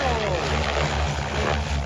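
A toy helicopter whirs in flight with a continuous buzzing rotor and motor drone, loud and close, with voices briefly audible nearby.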